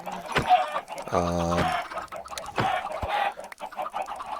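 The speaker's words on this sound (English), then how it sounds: "they're chickens, man" Chickens in the Minecraft video game cluck in a loud, close burst of several clipped, harmonic calls, followed by a few scattered softer clucks and clicks.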